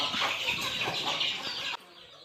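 Village chickens, a hen among them, cluck and stir at close range in a loud busy burst that cuts off abruptly to a quiet background.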